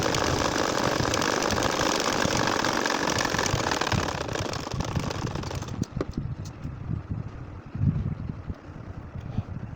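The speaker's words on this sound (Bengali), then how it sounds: "এখন সোজাভাবে আবারও আমাদের সেলাই করে যেতে হবে।" Sewing machine stitching a nakshi kantha quilt in straight lines, using doubled top thread and single bobbin thread. A loud, dense, continuous whir runs for about six seconds, then stops, leaving softer handling noises.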